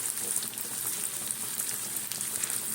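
Small mourala fish frying in hot oil make a dense, steady crackling sizzle, close and even, with scattered pops and no talking.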